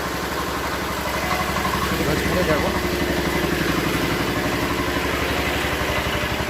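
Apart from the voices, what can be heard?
generator engine running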